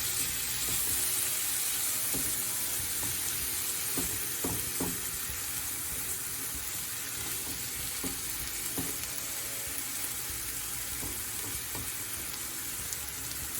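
Vegetables and paneer roasting in a hot pan for a homemade pizza topping, giving a loud, steady sizzle with occasional light stirring clicks throughout.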